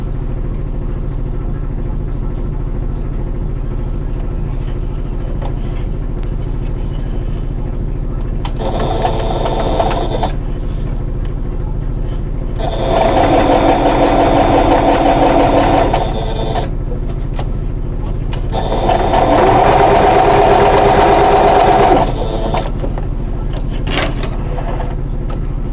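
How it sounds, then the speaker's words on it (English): A sewing machine stitching a four-patch quilt block onto a solid fabric piece runs in two short steady bursts of rapid whirring, with quieter handling and pauses between them over a constant low hum. "then I'm going to sew this 4-patch unit to the solid"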